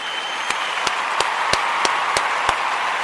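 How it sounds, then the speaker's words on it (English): An audience applauds a community group at a live show, a continuous crowd clapping with a few sharper single claps standing out at a steady pace. "I want to give all of the Imani babies a round of applause."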